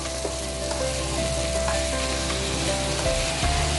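Onions fry in oil with a loud, dense, continuous sizzle close up, with occasional light stirring scrapes and no voices.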